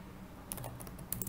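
Quiet computer keyboard typing while writing Python code, a short run of soft key clicks with a few quick taps clustered together over a low background hum.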